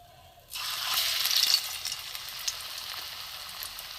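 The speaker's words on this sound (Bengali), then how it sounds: "লো ফ্লেমে আস্তে আস্তে ভাজতে হবে, নাহলে ভেতরটা কাঁচা থাকবে, উপরটা শুকিয়ে।" Drumstick leaf fritters frying slowly in oil over a low flame, a steady close sizzle that swells suddenly at the start, then settles into an even crackling hiss with small pops, no voices.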